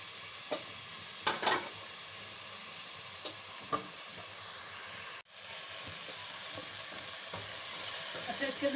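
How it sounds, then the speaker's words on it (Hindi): Ginger and garlic frying with tomatoes in a pan, an even close sizzle with a few sharp clinks of a utensil and a brief break before the hiss resumes and swells. "टमाटर के बाद में डाल रही हूँ अदरक और ये लहसुन थोड़ी देर भूनूंगी।"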